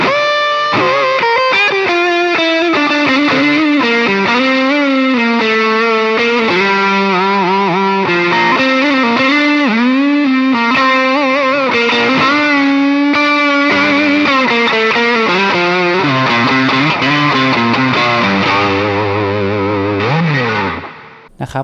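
A Kazuki Rought Stone electric guitar with heavy distortion plays a continuous rock riff and lead line, loud and close, notes bending and sustaining before a final slide down and cut-off.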